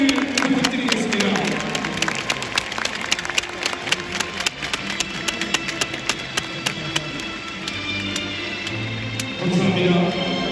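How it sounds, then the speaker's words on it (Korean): A stadium crowd applauds at the retirement ceremony for Jeonbuk Hyundai Motors legend Choi Chul-soon, with steady broad clapping and crowd murmur filling the stands, while an announcer's voice carries faintly over it. "관중 여러분, 다시 한번 뜨거운 박수를 부탁드리겠습니다."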